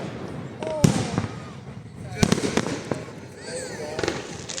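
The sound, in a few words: fireworks display in Bendigo, 2024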